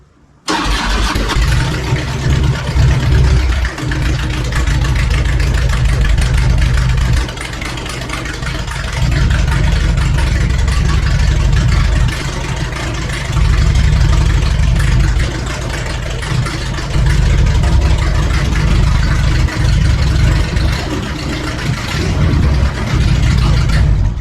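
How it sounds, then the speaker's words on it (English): A reconditioned motorcycle on its stand, in neutral, starts up and settles into a steady, loud idle that runs on without pause, its rumble rising and dipping slightly, with no speech. "Now we'll start it up just so you can hear it"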